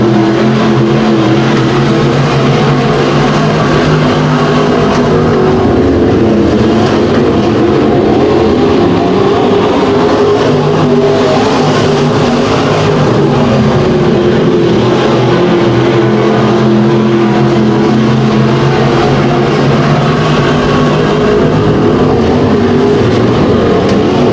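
Modified race cars at speed around Boyd Raceway in a dirt-track race, a loud, dense, continuous roar of several engines with no letup throughout.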